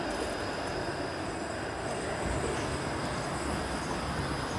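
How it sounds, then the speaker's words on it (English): A Toronto 506 Carlton streetcar runs on rails near Gerrard Street, producing a continuous loud rumble of steel wheels on track with a faint high whine above it and no talking. "A 506 Carlton streetcar, so that'll be turning left at Gerrard here."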